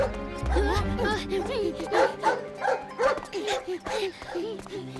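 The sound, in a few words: dog barking in a cartoon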